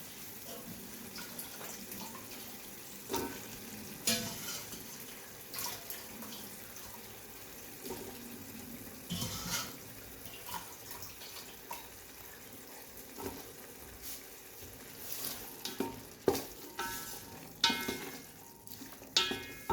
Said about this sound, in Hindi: अब हम चनों को मसाले के साथ भूनेंगे।